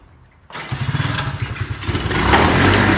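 A dirt bike engine catches on a kickstart after a moment of quiet, then runs with a loud, close, uneven putter that rises into a steadier roar toward the end.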